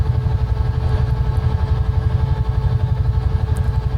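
Huey UH-1 helicopter engine in Microsoft Flight Simulator 2020, a loud steady rhythmic low throb with a fast regular beat, running alone without voices.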